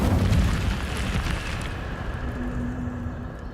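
The Incendio fire spell in Hogwarts Legacy gives a loud, whooshing fiery burst that rumbles at first and then fades into a lingering roar.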